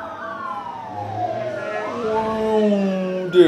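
An ambulance siren in the SimCity video game wails in sweeping, overlapping tones that slide up and down, fairly loud and steady, with no talking.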